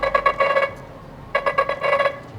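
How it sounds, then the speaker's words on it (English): The default Glyph ringtone 'Crossing' on a Nothing Phone 2 plays as two bursts of rapid, bright electronic tones, each a quick rhythmic run of beeps, loud and clear with a short silence between them and no talking. "crossing, which was the default on phone 2,"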